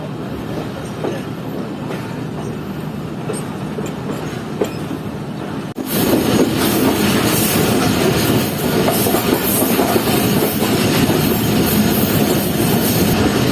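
A Khyber Mail passenger train rolls along the rails toward Rohri Junction station with a steady rumble and rhythmic clatter, growing noticeably louder and closer midway through.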